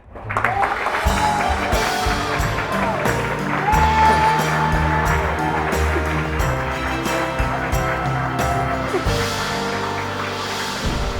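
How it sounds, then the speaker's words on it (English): Applause and crowd noise from a live debate show audience, steady and fairly loud, mixed with music playing underneath throughout. "a round of applause for Niko Debates Live."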